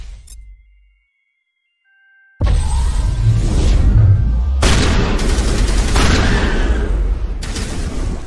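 Loud, booming shotgun blasts from the Mass Effect video game, with whooshing bursts and a sustained roar of gunfire over several seconds after a brief quiet start.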